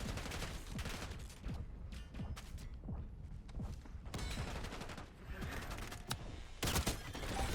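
A Destiny Sector weapon fires fast in a video game, rapid overlapping shots and bursts in quick succession among clanks and thuds, fairly loud throughout, with a faint voice in the background.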